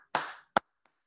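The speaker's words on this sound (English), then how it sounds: "When we're doing some Gullah, you have the full clap," Gullah hand clapping with a full clap: a loud, broad smack with a short trailing ring, then a second sharp clap and a faint tap, close and dry with no voices.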